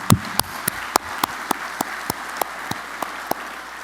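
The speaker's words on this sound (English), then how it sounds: "Let's please give them a round of applause." At an energy summit, sparse applause comes through as a handful of distinct, evenly spaced claps standing out sharply against quiet room tone.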